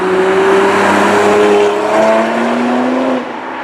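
BMW 1 Series M coupe engine pulls hard and loud through the mid-range, a rising drone heard from inside the car that climbs in pitch before easing off near the end.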